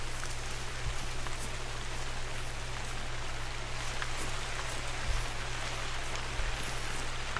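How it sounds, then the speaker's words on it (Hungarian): Steady rain in the video game The Hunter: Call of the Wild, a constant hiss of drops on surfaces with a low hum underneath and a few soft thuds. "Hú, de megjött az eső."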